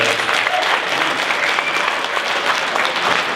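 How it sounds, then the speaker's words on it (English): Audience applause in a high school auditorium after a presentation, a dense, even wash of clapping from a crowd that holds steady throughout. "Do we get an applause or what do we get?"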